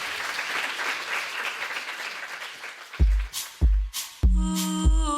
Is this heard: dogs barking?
no